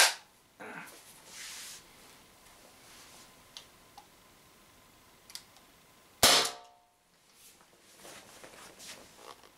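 Umarex TP50 Compact air pistol fired without its restrictor, one sharp loud crack in the middle, with a few faint clicks and handling taps around it and quiet room noise between.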